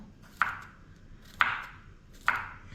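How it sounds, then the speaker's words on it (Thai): A kitchen knife chops garlic on a cutting board in a home kitchen while basil stir-fry is being made, giving three sharp, evenly spaced knocks about a second apart, close and clear with no talking. "หั่นกระเทียมนิดนึง"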